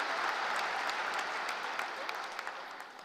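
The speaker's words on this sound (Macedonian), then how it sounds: "уште еден аплауз ке мора за вие прекрасни луѓе" An audience applauding at a political election event in Macedonia, a sustained wash of clapping that slowly fades, with a few sharper individual claps standing out toward the end.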